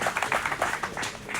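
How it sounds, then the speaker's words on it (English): A small audience claps in a brisk, uneven patter, individual hand claps distinct and fairly close, with no voices over it. "I know that it's okay to clap."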